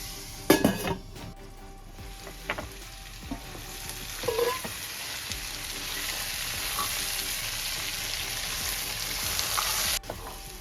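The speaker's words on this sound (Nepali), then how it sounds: "प्याज पनि यतिको भुटेर आयो" Onions with spices fry over low heat for black chickpeas, a continuous gentle sizzle with a few metal clinks and stirring knocks near the start before it settles into an even crackle.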